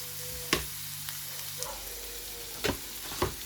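Vegetables with carrot fry softly in a pan with a faint, steady sizzle, punctuated by several sharp clicks and knocks as they are stirred.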